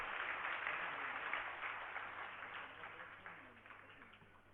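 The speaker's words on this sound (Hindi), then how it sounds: "जोरदार उनकी भावनाओं का ताली बजा करके समर्थन करें।" Applause from an audience at a Jain religious gathering, a soft wash of clapping that slowly fades over a few seconds, heard at a distance with no speech over it.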